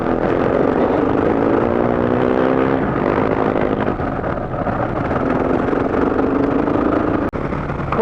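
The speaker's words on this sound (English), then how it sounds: "Amazing how these things lug. I've got it right down to low revs there." A motorcycle engine lugs at very low revs during an off-road adventure ride on New Zealand's South Island, giving a loud, steady, throbbing drone that holds almost unchanged from start to finish.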